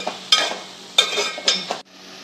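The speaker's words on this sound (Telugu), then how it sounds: "తోటకూర ఉడికి నీరంతా పోయి దగ్గర పడేంత వరకు ఉంచుకొని దానిని కలిపి" A spoon stirs cooked amaranth leaves in a pan, giving three loud, close scraping strokes with a soft sizzle under them before the stirring stops abruptly.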